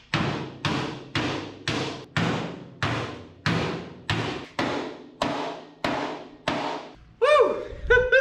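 A heavy body hammer pounds the sheet-metal bed of a 1973 Chevy truck during a long-bed to short-bed conversion, about a dozen loud, evenly spaced clanging blows, then a brief higher metallic ringing scrape at the end.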